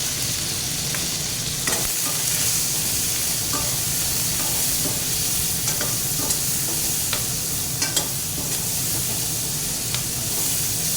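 Eggplant frying in a pan makes a steady, close sizzle with occasional scraping stirs and small crackles, heard alone throughout.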